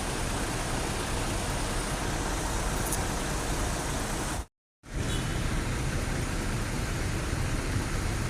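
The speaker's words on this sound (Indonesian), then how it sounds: "Ya, ini ada bus Almera ya." An economy-class Almera bus rumbles past amid roadway noise as a steady, loud, broadband wash of engine and tire sound. The sound cuts out abruptly midway, then resumes.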